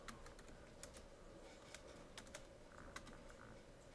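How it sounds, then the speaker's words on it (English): Typing on a computer keyboard, irregular crisp key clicks scattered over a steady low room hum, fairly faint and with no speech. "then I'm gonna start typing."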